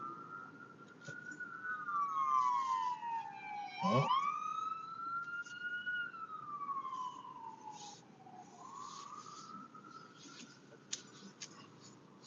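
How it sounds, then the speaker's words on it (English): An ambulance siren passes on the road during a road trip, heard from inside a car. The wail rises and falls, dips sharply as the vehicle goes by, then resumes more distantly, with a brief spoken exclamation. "Here comes the ambulance."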